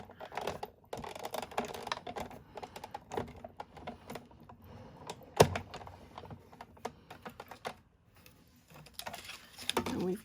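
A die-cutting machine feeds a stitched label die through for a Stampin' Up holiday card, giving a run of close, busy mechanical clicks and crunching rattles with one sharp louder snap midway.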